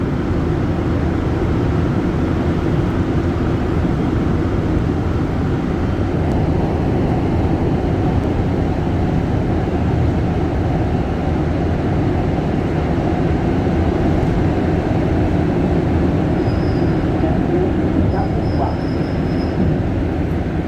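A Montreal Metro train on the Green Line rolls steadily westbound, heard from inside the car as a continuous loud rumble and roar of wheels and motors, with a faint high squeal near the end and no talking.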